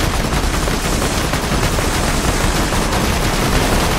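Dense, continuous automatic gunfire from Borderlands 2, aimed at a car, loud and sustained with rapid overlapping shots and booming low end, no talk.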